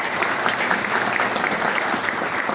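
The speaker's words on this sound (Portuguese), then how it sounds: "um aplauso para todos eles" A live audience claps steadily at a talk, applause filling the room at a constant, fairly loud level with no voices on top.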